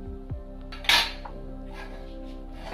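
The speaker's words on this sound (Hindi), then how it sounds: "इसे टैप करेंगे ताकि नीचे जो भी बबल्स हो वो न रहे।" Cake batter in a pan tapped against a surface to knock out air bubbles, for a tutti frutti cake: a soft knock early on, then one sharp metallic clink, and faint later taps in a quiet kitchen.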